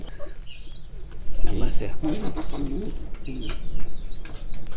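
Pigeons cooing softly at a home pigeon loft, with bird calls and chirps recurring through the clip beneath and between people talking nearby.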